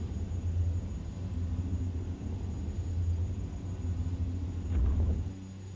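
Steady low engine drone of a De Havilland Dash 7-150 climbing after takeoff in X-Plane 11, a continuous rumble with a brief swell near the end, no talk.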